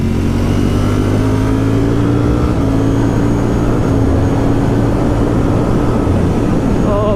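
A 2020 Ducati Streetfighter V4 S engine revving high on the road past 7,000 RPM, a loud, sustained, rising drone with strong low rumble and climbing engine tones, heard close up throughout.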